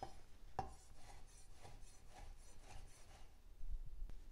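A knife saws through olive buttermilk bread, cutting it into even cubes for croutons: a series of faint, soft rasping strokes with the occasional light knock on the board, quiet and close, with no talk.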